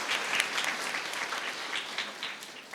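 A congregation claps to welcome a priest, the new vicar general, during Holy Mass at a church feast, a steady wash of many hands sustained throughout at moderate level with no talk over it.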